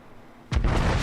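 Fuso battleship main guns firing in a naval video game, a single heavy boom that hits suddenly halfway through and then rumbles on loudly after a quiet lead-in.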